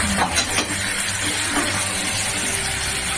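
Chicken pieces being sautéed in a pan for a red country-chicken curry, with a steady close sizzle and occasional stirring scrapes, no voices.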